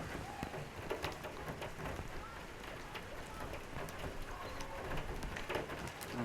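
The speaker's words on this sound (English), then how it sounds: "This rain certainly showing no signs" Steady rain falls during an outdoor women's football match, a constant hiss of drops with scattered taps, moderately loud, while voices murmur in the background.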